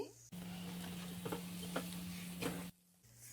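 Milk is poured into wheat flour for barfi while it is stirred in a pan, giving a soft continuous hiss with scattered scraping taps, close by, between brief quiet gaps.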